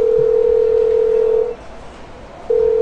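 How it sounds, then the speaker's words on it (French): A telephone gives a loud, steady tone that sounds continuously, cuts out for about a second, then starts again. "Donc je réponds au téléphone."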